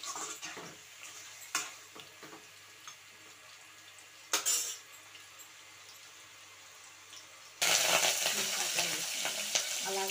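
Chicken curry frying in a pan, with soft sizzling under scattered scraping and clinking of a spoon as it is stirred, a few sharper clatters, and a louder, denser sizzle toward the end.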